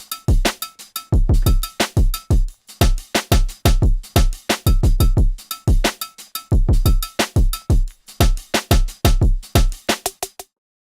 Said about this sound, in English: I just added a tambourine and some vinyl crackle, and this is what it sounds like